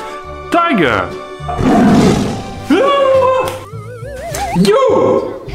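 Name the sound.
tiger roaring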